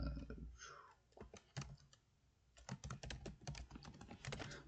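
Irregular bursts of clicking keystrokes on a computer keyboard, close and fairly quiet, with short pauses between flurries of typing while someone logs hockey game notes.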